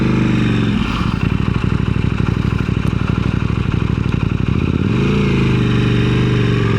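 A KTM 890 SMT motorcycle engine idles loudly with a rapid, even pulse, dipping and shifting in tone as the gear lever is clicked through neutral and back into gear, with no voices over it.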